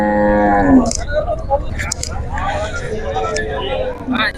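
Cows moo loudly at an open-air cattle market in Sindhanur, Karnataka, a long deep call up close followed by chatter and crowd babble of traders around the animals.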